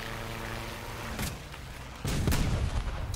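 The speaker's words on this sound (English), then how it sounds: "Oh no, not the machine gun rounds." Gunfire in a tank battle video game, firing at a Maus heavy tank: a short burst of muffled shots and booms that swells abruptly loud partway through, dense and close.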